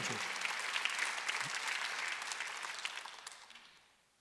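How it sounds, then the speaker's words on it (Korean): A congregation applauds during a Sunday church service, with dense, fairly distant clapping that holds steady and then fades out over the final second. "그 권세를 누렸으면 하나님의 것을 우리가 받았을 수 있는 것이 박수 한번 주세요."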